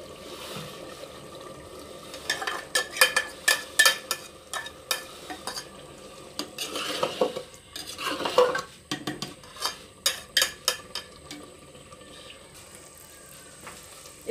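Beaten egg mixture stirred and lightly fried in a pan on low heat: soft sizzle underneath repeated scraping and clinking strokes of a utensil against the pan, irregular bursts over several seconds.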